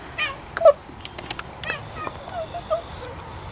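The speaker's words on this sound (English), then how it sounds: "This cat always hangs around our house." A cat hanging around a house gives a few short meows with bird calls and other faint outdoor sounds nearby, moderately close against a quiet background.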